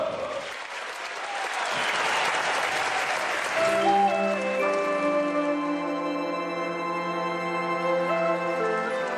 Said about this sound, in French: On applaudit par habitude, pour manifester son respect ou son enthousiasme.